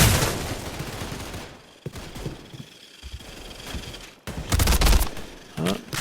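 Rapid automatic gunfire from a shooter video game comes in dense loud bursts that cut off abruptly, with a quieter gap in the middle and more bursts near the end, up close with no talk.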